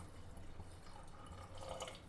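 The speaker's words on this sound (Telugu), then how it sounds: "మీకు నచ్చినట్టు పోసేసుకోండి వాటరు" Water is poured from a glass into a pot of mutton and vegetable curry, a faint, steady splashing and trickle that stays quiet and close throughout.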